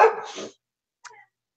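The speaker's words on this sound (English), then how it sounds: "That's my dog. She's barking at me." A female dog barks nearby indoors, one loud bark followed a moment later by a shorter, fainter yip.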